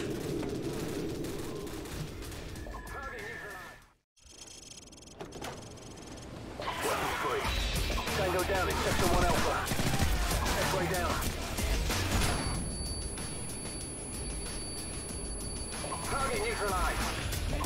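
Uzi gunfire rattles in bursts during a Call of Duty: Modern Warfare Epilogue mission on Veteran difficulty, mixed with a dense game soundtrack. Someone talks over the shooting, and the sound drops out briefly partway through.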